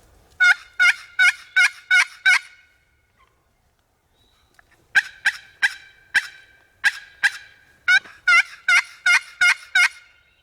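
A wild turkey tom gobbling in a field, several quick bursts of rattling gobbles in repeated series, clear and fairly close, with a brief quiet pause between calls.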